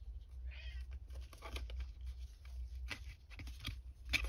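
A cat meows a few times, softly and fairly close, with paper-crafting rustles and handling noises around it and no talk.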